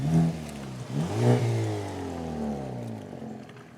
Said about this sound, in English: anytime I would drive by, I would try to rev the engine